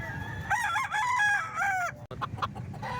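Two roosters offered for sale crow loudly and nearby with long, wavering calls, then break into sharp, choppy clucking and squawks.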